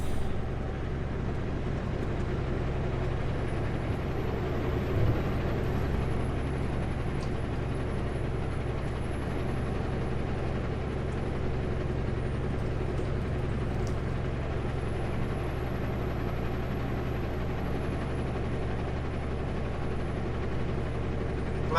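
A truck drives into a snow drift, its engine giving a steady low rumble with wheel and body noise. The drone holds evenly throughout at moderate loudness, with no talking.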